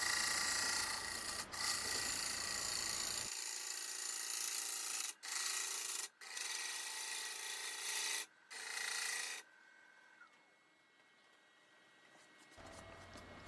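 Pine burl bowl turning on a wood lathe gives loud, steady scraping and rasping broken by short gaps, then a quieter motor hum once the cutting stops, with no talk.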